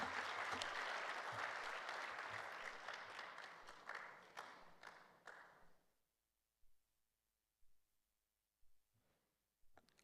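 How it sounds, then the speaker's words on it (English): Audience applause at an African human resources summit follows a closing speech, dense and steady for about six seconds before fading out, leaving only a few scattered late claps. "Applaudissez s'il vous plaît."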